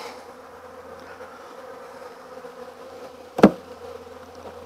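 Honeybees buzz around an open hive during an early spring inspection, a low steady hum in the background, broken once by a short sharp knock.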